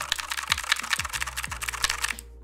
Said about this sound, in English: This mechanical keyboard, super on the budget end.